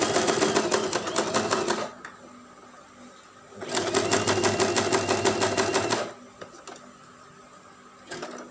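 A sewing machine stitches the edge of a spunbond fabric mask in two sustained bursts of rapid, buzzing needle strokes separated by quiet pauses, with a brief restart at the end.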